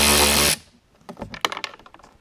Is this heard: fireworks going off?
no